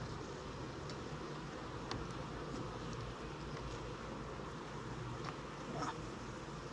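Honey bees buzzing around an open hive, a dense, steady drone close by with occasional louder passes of single bees.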